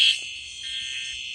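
A fire alarm in a video game sounds a steady, continuous electronic tone, fairly loud and unbroken, with no talking.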